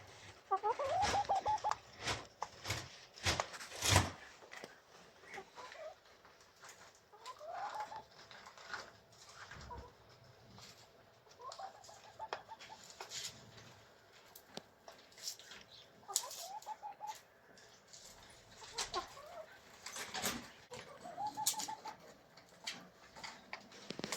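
Outdoor calls from black chickens, with repeated soft clucks and coos scattered over about twenty seconds, moderately faint against quiet background noise and occasional knocks.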